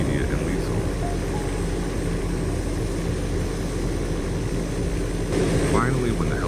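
In the Rust video game, a helicopter gives off a steady, droning rotor and engine roar at moderate loudness, with a faint swelling whoosh near the end that could be a guided missile launching.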